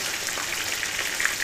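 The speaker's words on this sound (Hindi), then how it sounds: "और इसको 4-5 मिनट के लिए फ्राई करना है" Chicken pieces for biryani fry in a pan with a loud, dense, continuous crackling sizzle at close range, with small spits and pops scattered through it.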